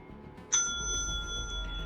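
A single bright bell chime rings out clearly and hangs in the air, slowly fading over a soft background hum.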